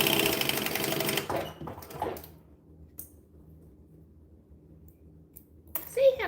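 A sewing machine stitching a bag whirs loudly for just over a second and then stops, leaving quiet room noise with a few faint clicks and small handling sounds.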